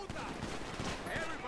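Dense, continuous crackle of gunfire in a GTA survival match, steady and loud throughout the short stretch with rapid overlapping shots and a voice mixed in underneath.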